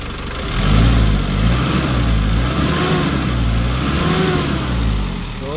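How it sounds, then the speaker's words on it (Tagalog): A Hyundai H-100 engine, recently run-in after being stalled in floodwater, idling and being revved up and down, a loud close rough rumble rising and falling in several swells with no talking. "Ayan na yung andar ng ating H100. Just tingnan nyo. Nire-rev natin dito"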